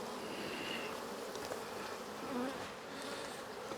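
Honeybees buzz thickly around a hive troubled by hive beetles, a close, continuous drone of many wings with individual bees rising in pitch as they pass near.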